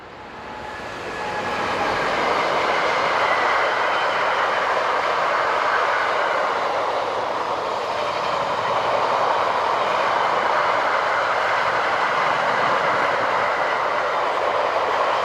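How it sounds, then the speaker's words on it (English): An MRCE electric locomotive, number ES64F4289, hauls a loaded car-carrier freight train westward past the listener, a loud, sustained rolling rumble with faint wheel clatter that builds over the first few seconds and stays strong, with no voices. "MRCE Dispelok Harloco number ES64F4289, heading west with a loaded car train"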